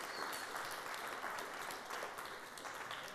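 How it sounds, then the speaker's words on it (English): A round of applause from an audience at a candidate debate for a student union VP Engagement post, steady broadband clapping filling the whole stretch at moderate level with no voices over it. "Can we have a round of applause, please?"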